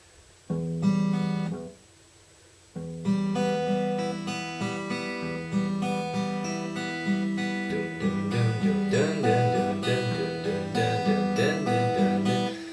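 An acoustic guitar plays a quick fingerpicked pattern, a short phrase, a brief pause, then a steady run of rapid plucked notes.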